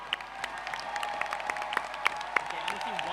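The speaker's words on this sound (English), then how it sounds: "Let's give a round of applause for the two finalists." Audience applause at the grand final of the 2013 UT MARA Australs debating tournament, honouring the two finalist teams; steady, moderately distant clapping with a few sharper claps standing out, and faint voices mixed in.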